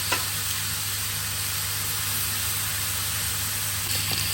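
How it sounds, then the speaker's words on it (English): Baby chard wilting in a hot pan, giving a steady, close sizzle of frying with a constant hiss and a low hum underneath, and no voices. "chard and just let that wilt down on this pan"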